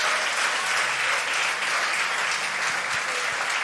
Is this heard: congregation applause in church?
yes